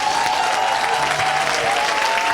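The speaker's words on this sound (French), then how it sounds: "Put your hands together." A church congregation claps together in praise of the Lord, a dense, loud, continuous burst of many hands clapping at close range throughout the short moment.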